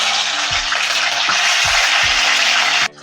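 Green chillies go into hot oil in a pan for a fish curry and set off a loud, continuous sizzle, with a few low knocks in the pan. The sizzle cuts off abruptly near the end.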